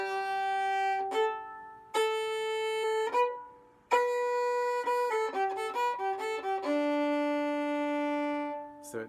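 Solo fiddle plays the opening phrase of the Driftless Hoedown, a string of clear sustained bowed notes moving stepwise with short gaps between phrases, close and alone with no talking.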